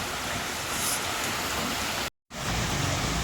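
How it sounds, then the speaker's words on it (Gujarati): Rain falls outside over a waterlogged street in medium wind, a loud, steady broadband hiss heard close and continuous, broken only by a brief silent gap near the end. "વરસાદ પણ એવો જ ચાલુ છે જુઓ"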